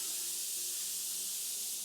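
A spray gun hisses continuously inside a car paint booth while coating a BMW F80 carbon roof, a steady, bright airy spray with no breaks.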